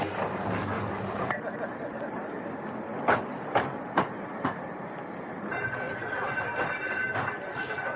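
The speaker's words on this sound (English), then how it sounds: "the Great Orme tramway climbs the steep, narrow streets at a maximum speed of 5 miles per hour" The Great Orme cable tramway climbs steep, narrow streets, rumbling and grinding steadily, with several sharp metallic clanks in the middle and a high squeal toward the end.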